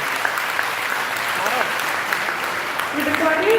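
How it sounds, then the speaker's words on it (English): A large audience at NIFT Patna claps loudly for a fashion designer at a master class, sustained even applause with some voices rising near the end. "we need a huge round of applause for Ms. Anju Modi"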